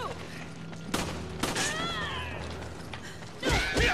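Gunfire in the video game Resident Evil 5, a few sharp shots amid game ambience and a short whistling tonal effect, moderately loud, with a louder burst at the end and no clear talking.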